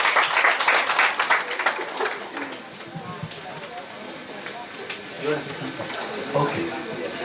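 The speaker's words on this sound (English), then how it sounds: "let us clap hands once again for Mrs." An audience applauds Mrs. Vanessa Kazanga at a secondary school gathering, with a dense burst of hand clapping that fills the opening seconds and then thins out as a voice carries on speaking.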